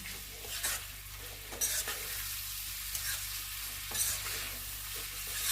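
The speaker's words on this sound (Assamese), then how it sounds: "এতিয়া এনেদৰে অকণমান দেৰি ভাজি থাকিম।" Elephant apple pickle cooked with jaggery is stirred in a pan over low gas, making a soft continuous sizzle with repeated scraping strokes of a spoon and no voices.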